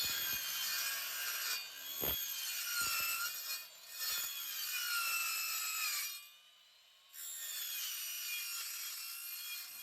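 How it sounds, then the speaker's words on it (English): A saw cuts through a stainless steel railing with a high, steady screeching whine, briefly pausing and dipping before resuming, accompanied by a few knocks. "So to cut this stainless steel railing, you have to have a blade"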